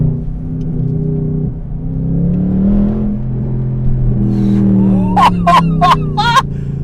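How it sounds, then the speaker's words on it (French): A Mercedes C63 AMG Black Series engine rumbles, then four sharp crackling pops burst out in quick succession as it downshifts, with low revs droning underneath. "à chaque rétrogradage, c'est un pur plaisir. Alors, ça t'oublies aussi les petites pétarades"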